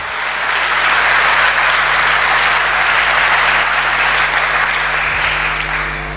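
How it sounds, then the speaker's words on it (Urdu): Loud, sustained applause from a congregation during a church sermon, a dense, even wash of clapping that holds for several seconds with no talk over it. "اس کے نام کے لیے زوردار تالیاں۔"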